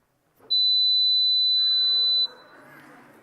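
A pure 4,000 hertz test tone played to a live audience at a science festival, a loud steady whistle-like beep lasting nearly two seconds before cutting off into faint crowd murmur.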